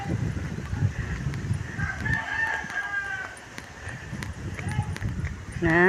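Chickens cluck and a rooster crows in the background of an outdoor yard in the Philippines while people talk over them.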